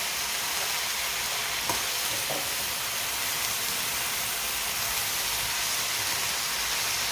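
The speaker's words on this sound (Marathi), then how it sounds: "आता ही भाजी आपण हलवून घेऊ" Gavar (cluster bean) pods tossed with salt in a pan give a steady, even sizzle and hiss with a couple of faint scrapes near the start, continuous for several seconds with no voices.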